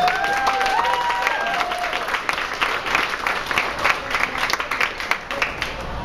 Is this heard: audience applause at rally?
yes